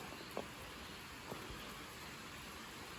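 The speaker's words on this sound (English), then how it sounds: "But it is actually raining." Rain falls outside as a faint, steady hiss of drops on surfaces, with a couple of soft brief knocks and no voices.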